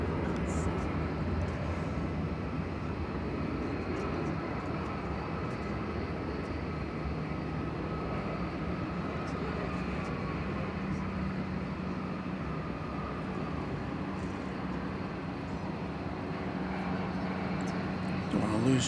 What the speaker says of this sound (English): Qantas flight.